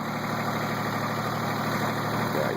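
A Kubota tractor engine idles steadily up close, a constant low rumbling drone with an even vibration and no other sounds.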